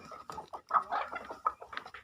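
Close, clear clucking from a seven-month-old native chicken in Chavara, Kollam: several quick, choppy notes in an uneven rhythm against a quiet background.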